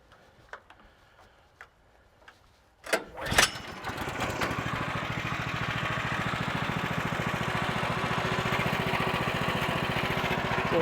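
A Woodland Mills HM130 portable sawmill cuts a log: a few light taps and clunks, then the engine revs up into a loud, steady droning roar that holds to the end.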